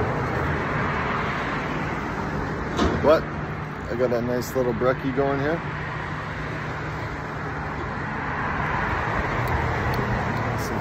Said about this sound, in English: Traffic's loud.